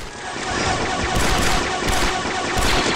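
Sustained blaster gunfire in a Star Wars: Republic Commando battle: a dense, loud, continuous barrage with repeated sharp bursts about every second.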